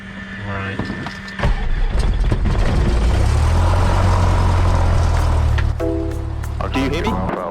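A propeller airplane engine cranks and starts on a student pilot's aircraft, rising into a loud steady drone that fills the cockpit, with a voice talking before and after.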